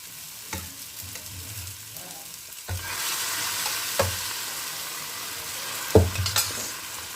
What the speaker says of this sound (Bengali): এটা ভাজা ভাজা করে ডালে সম্বার দিয়ে দেবো